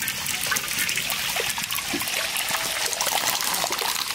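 Mustard oil pours into a pan for frying prawns, a loud close, continuous trickling and splashing stream of liquid lasting a few seconds, with no voices.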